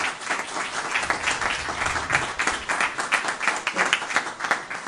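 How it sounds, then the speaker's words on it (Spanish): An indoor audience at a book presentation bursts into dense, sustained applause, many hands clapping close and loud for the whole stretch with no talking over it. "yo quisiera que le demos un fuerte aplauso a doctor Yomar Polanco."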